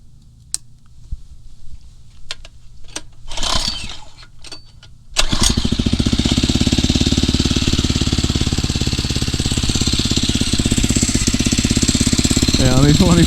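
Phatmoto Rover 79cc motorized bicycle engine: a few clicks and pulls, then it catches about five seconds in and settles into a loud, steady, rapid putter close by, idling with a faint voice in the background.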